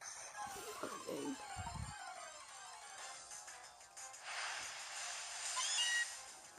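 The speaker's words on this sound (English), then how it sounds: "Another Meowth." A Meowth cry from the video game Pokemon Sun, a short synthesized cat-like meow near the start over steady game music, with no talk.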